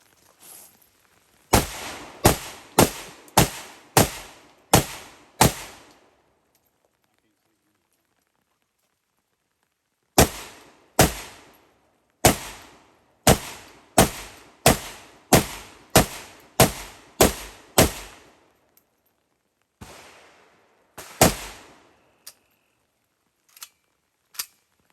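Arsenal SLR-107UR rifle firing outdoors, sharp loud gunshots in two rapid strings of about six and ten reports, separated by a pause, followed by a few scattered single shots, no talking.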